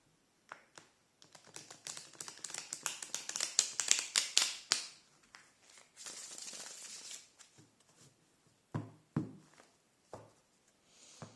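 A deck of tarot cards is cut and shuffled close by, a rapid burst of riffling card snaps building then easing, followed by softer scattered taps and slides of cards.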